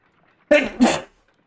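A character sneezes once in the Sherlock Holmes: Crimes and Punishments video game, a short, sharp, two-part burst, close and clear against silence.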